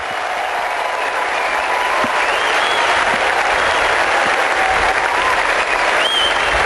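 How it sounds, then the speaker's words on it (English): Tennis crowd at a 2007 Toronto quarterfinal applauding a great point, a loud, dense, sustained wash of clapping throughout. "Great point. Oh, yes. And that gets the crowd going."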